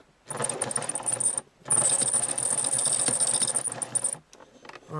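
A malfunctioning sewing machine running with a busy mechanical clatter and whir, briefly stopping and starting again, loud and close with no talk.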